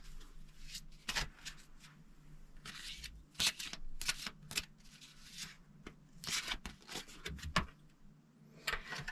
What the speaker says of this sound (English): Let's just get another card out here.